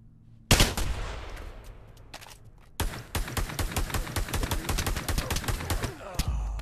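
Gunfire in the VR shooter Pavlov opens with a single sharp shot, then breaks into long rapid automatic bursts of close, loud cracks in a fast, steady rhythm.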